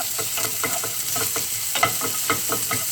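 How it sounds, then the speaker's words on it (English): Onions stir-frying with browned bacon in a pan give a steady sizzle with repeated scraping stirs, close and continuous, no voices. "I'm going to add in the onions, and let's stir fry for a few"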